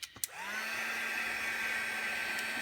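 A heat tool or dryer blowing to dry masking fluid and paint on a papercraft card: a couple of clicks, then a steady, close whirring drone that holds evenly to the end.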